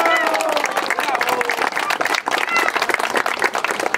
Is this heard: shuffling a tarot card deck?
no